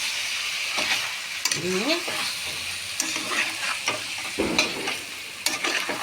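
Chicken tehari masala, with rice added on top, sautéed and stirred in a pan: steady close sizzling with repeated spoon scrapes and clatters, and a brief voice early on.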